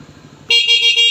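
A bright, high-pitched installed dual car horn blares in one sustained honk, loud and close, after a brief idling engine hum.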